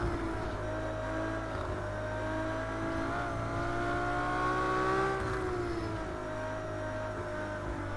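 Ferrari LaFerrari engine accelerating hard on the Nordschleife, a loud, sustained, close engine note whose pitch climbs and swells through the middle before easing slightly, with no talking.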